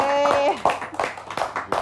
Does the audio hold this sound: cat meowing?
no